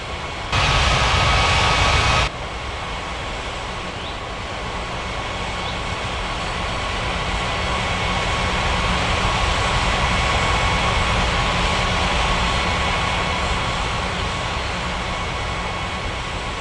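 A jet airliner engine roars steadily in the Unmatched Air Traffic Control game at Ngurah Rai Bali International Airport, a continuous broad rumble that swells gradually after a brief louder burst at the start.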